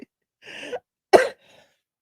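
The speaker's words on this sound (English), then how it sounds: "I had a coughing fit." Short bursts of coughing and throat clearing from a woman during a podcast conversation, three rough bursts separated by brief gaps, close and fairly loud.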